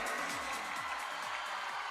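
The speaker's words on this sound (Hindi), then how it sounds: "एक बार जोरदार तालियां आपकी।" Faint, steady applause from a crowd, a continuous wash of clapping with a low tone underneath.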